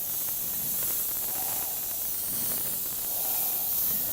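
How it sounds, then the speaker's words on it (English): An airbrush or spray can hisses in a steady continuous stream while white paint is sprayed from above onto a resin game piece, close and constant with slight swells. "I'm just going to spray."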